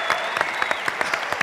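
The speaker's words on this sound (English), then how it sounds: "Another round of applause." Audience members at the Arctic Inspiration Prize awards ceremony keep up brisk, continuous applause, with a faint whistle-like tone running beneath the clapping.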